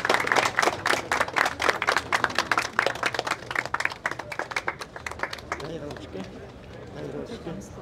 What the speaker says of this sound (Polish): Brawa, słuchajcie.